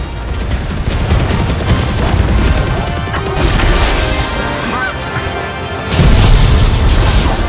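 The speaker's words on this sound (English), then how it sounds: "beam cannon!" Loud Final Fantasy XVI beam cannon attack effects: a sustained energy blast with crashing bursts and a surging roar that swells near the end, no talking.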